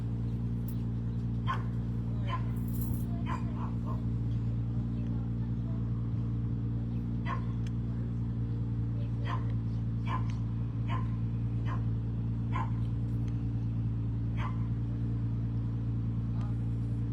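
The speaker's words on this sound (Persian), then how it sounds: "کوثر دور وایسین سگ داره." Dog barking repeatedly at a doorstep, sharp scattered barks spread through the clip over a steady loud low hum, with voices talking nearby.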